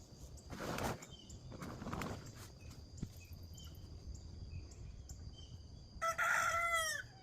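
A rooster crows loudly near the end over a quiet yard with chickens, crickets chirping softly and a few faint clucks and rustles earlier.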